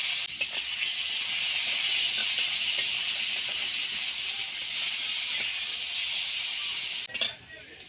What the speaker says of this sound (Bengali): এবার আলুগুলো আমি হালকা ভেজে নেব।